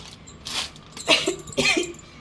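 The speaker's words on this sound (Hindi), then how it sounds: "खांसी आ रही है" Two short, rough coughs close to the microphone, a brief pause between them, in an otherwise quiet setting.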